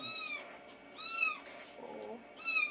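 A kitten meows three times, in short, high, fairly faint cries spaced about a second apart in a quiet room.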